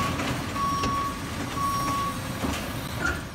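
Repeated electronic reversing beeps from a garbage truck in an animated cartoon, three or four evenly spaced high tones over a steady rumbling engine and background noise.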